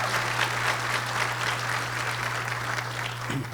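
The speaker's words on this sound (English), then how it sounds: "How about a big round of applause?" Audience at a Red Cross heroes luncheon clapping, a steady dense burst of applause from a mid-sized crowd, close and sustained throughout, with a low hum underneath.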